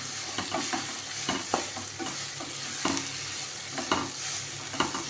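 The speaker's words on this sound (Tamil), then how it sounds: "இதில் இப்போ இந்த மஷ்ரூமை போட்டுடலாம். போட்டுட்டு இதை ஒரு கிண்டலாம்." Mushrooms fry in a pan while a utensil stirs them, steady sizzling underneath with repeated scraping clicks and knocks at irregular intervals, close and unaccompanied by talk.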